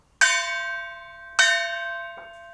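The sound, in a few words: struck bell dong on music wall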